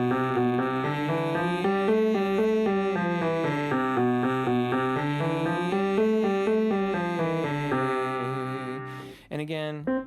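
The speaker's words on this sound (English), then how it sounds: "E and A with the trill exercise sounds like this." Singer doing a lip or tongue trill warm-up exercise on the vowels E and A, a buzzing sustained tone sliding up and down in repeated scalar patterns, close and steady, ending with a brief breath.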